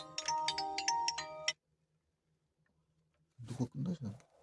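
A phone ringtone plays as a quick run of bright, repeated chiming notes for about a second and a half, then cuts off; after a silent pause, a person talks nearby.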